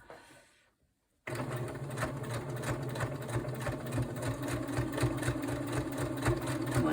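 A sewing machine runs steadily, stitching fabric for a shabby chic cover, its fast mechanical whirr starting abruptly after a second of near silence and continuing loud and close.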